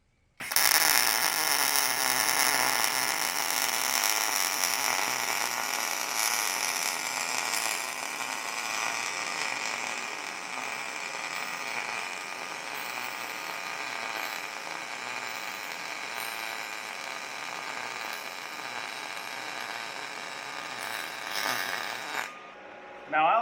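Steel tubing is welded with a wire-feed welder, giving a steady, close crackling hiss that holds for about twenty seconds before cutting off.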